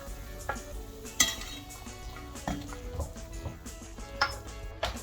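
A spoon clinks against a pot while lifting beef chunks out of Massaman curry after the heat is off, giving a few sharp metallic taps and scrapes over a faint simmering background.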